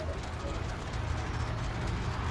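Birds coo steadily in the fantasy tactics game War of the Visions, and the cooing blends into a dense, continuous bed of game ambience while someone talks over it.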